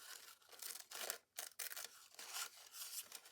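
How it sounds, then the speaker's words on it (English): Scissors snip through paper while cutting out a circle in a craft project, a quiet, close series of crisp cutting strokes with short gaps in between. "I'm going to go ahead and cut our circle."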